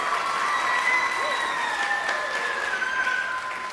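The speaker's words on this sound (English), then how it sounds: "One last round of applause for them." Steady audience applause at a school music recital for a group of young piano performers, dense and continuous clapping filling the whole stretch at moderate level with no speech.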